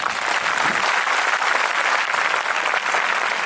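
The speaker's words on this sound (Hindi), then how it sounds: "जिसने आयोजन किया उसके लिए ताली बजा दो" A church congregation claps for the organiser of a Christian worship gathering, a dense, steady wash of many hands that stays loud and unbroken throughout.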